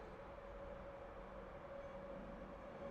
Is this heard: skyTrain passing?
yes